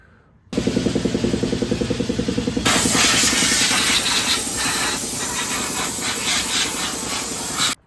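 Foaming degreaser sprayed from a can while working on a Mk7 GTI's oil pan area: a loud, close hiss that begins in short rapid pulses, then turns into one continuous jet before cutting off.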